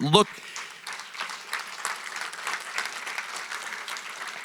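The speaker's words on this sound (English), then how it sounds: "I think we should give them another round of applause." Audience applause at a transit event with a chamber of commerce, a dense steady wash of many hands clapping after a brief loud thump at the start.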